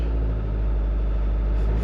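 A Fiat Ducato engine with an automatic gearbox runs close by with a loud, steady low rumble and drone, holding even revs throughout.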